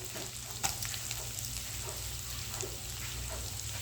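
Onions fry steadily in a pan with ginger and garlic for a mushroom biryani, a low, even sizzle under a faint hum with no talking.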